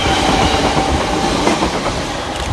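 Class 345 Elizabeth line unit 345012 pulls away from the platform at Romford station on the Great Eastern Main Line. A loud, steady rumble carries a rhythmic clickety-clack of wheels over rail joints.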